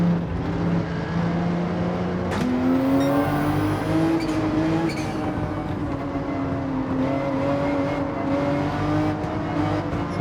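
Porsche 911 race car engine in a racing game at the Deep Forest circuit, a sustained high engine whine rising and settling through paddle shifts, with brief tire squeal and steady rolling noise.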